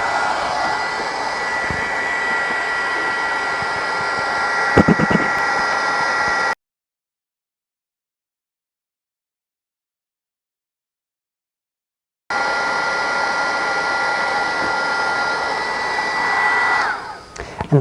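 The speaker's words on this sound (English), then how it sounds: "take your heating tool, and this is like a little miniature blow dryer" A small heat embossing tool, like a mini blow dryer, blows with a steady loud whirring roar, cuts out for several seconds, then starts up again and runs on.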